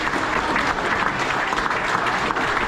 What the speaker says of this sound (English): give a good round of applause for these 2 studs